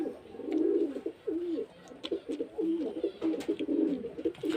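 Pigeons coo in a loft, their soft throaty calls rolling in close, repeated bursts that overlap one another without pause.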